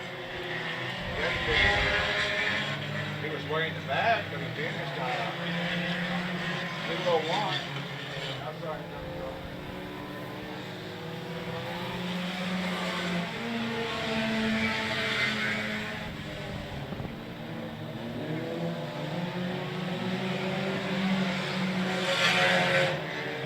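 Sport compact race cars launching at the start of a heat race at a Texas speedway, a sustained loud roar of several engines revving and droning, with a commentator talking over it throughout.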